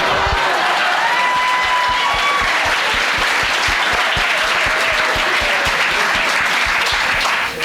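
Audience applause at a talk, steady dense clapping from a large room that holds for several seconds at full strength before starting to fall away.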